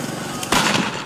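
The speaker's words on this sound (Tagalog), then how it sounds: "pag kinalabit ang gatilyo, sisindi ang igniter sa barrel at dito na ito puputok" A homemade plastic-pipe gas cannon (boga), loaded with flammable gas and set off by a trigger-fired igniter in the barrel, gives one sharp bang about halfway through, ringing out over steady background noise.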